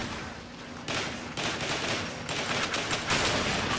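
Rapid bursts of gunfire from snipers, shotgunners, flyers and missile launchers in the video game Transformers: War for Cybertron, a steady mid-level barrage of overlapping shots with a few sharper bursts.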